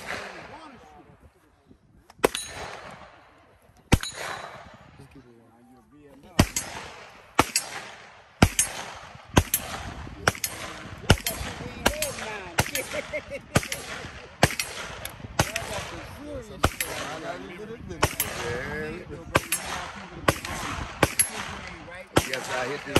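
Gunfire from a firearm with a binary trigger at an outdoor shooting range: sharp, loud reports come in quick pairs and bursts, with brief gaps between strings, over faint background voices.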